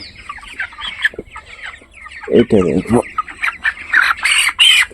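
A 23-day-old broiler chicken weighing about 1 to 1.3 kilograms clucks in short, close bursts midway, with scattered bird calls around it and someone speaking briefly nearby.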